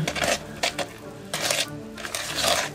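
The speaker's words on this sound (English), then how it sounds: "here's the cookie dough that I've been stirring around with a wooden spoon" Cookie dough for peanut butter blossom cookies worked by hand with a wooden spoon in a bowl gives off a few loud, scraping, thudding bursts, each about half a second long, with short quiet gaps between them.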